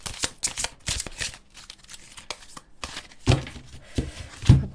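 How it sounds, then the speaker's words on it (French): Oracle cards being shuffled by hand, a run of crisp riffling and slapping bursts with short pauses, close and fairly loud with no talking. "pendant que je bats les cartes"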